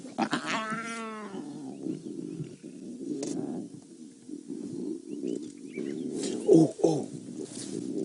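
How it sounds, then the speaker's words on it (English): Lion cubs squeal and mew with high, wavering calls during aggressive feeding at a kill, a dense overlapping chorus close by, with louder yelps near the end. "Difficult to hear all the noise the cubs are making."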